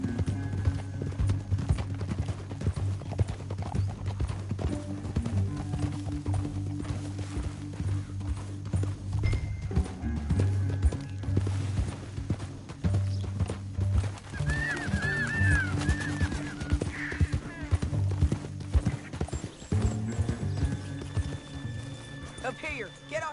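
Horse hooves clip-clopping at a steady gallop in the video game Red Dead Redemption 2, a continuous rhythmic beat over rumbling background, with an occasional whinny and characters talking over it.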